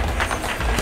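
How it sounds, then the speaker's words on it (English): A boxer's entourage claps in rhythm in a dressing room, quick dense hand claps close up in a brief burst. "And the entourage clapping in rhythm,"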